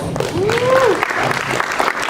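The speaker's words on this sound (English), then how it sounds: "He is the original founder of the Gator Blockchain Club, so let's give him a round of applause as well" University blockchain conference audience breaking into a round of applause, with a short rising whistle cutting through near the start, the clapping continuing steadily for about two seconds.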